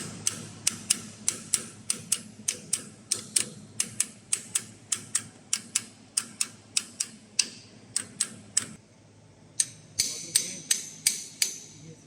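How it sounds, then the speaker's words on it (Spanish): Steady series of light metallic taps from a small bronze hammer driving a bearing into place on a lathe, about two per second, close by, with a brief pause before the tapping resumes. "Son golpecitos suaves con un martillo de bronce y ahí va entrando"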